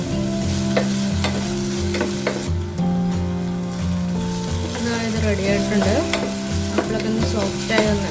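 Apple pieces with sugar being stirred in a pan, a steady frying sizzle with repeated clinks and scrapes of the spoon, close and continuous throughout.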